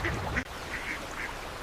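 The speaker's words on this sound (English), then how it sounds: "The ducks are walking like tiny old grandpas." Ducks quack in several short, nasal calls at close range over a steady outdoor background, with a brief pause partway through.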